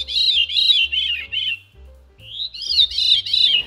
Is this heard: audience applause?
no